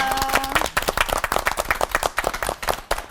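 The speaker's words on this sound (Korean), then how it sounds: "도움 주신 세 분의 목사님께 큰 박수 보내주시겠습니다" A small studio audience at a Korean church television talk show claps for three pastors, distinct individual claps in a brisk uneven patter after a brief musical tone at the start.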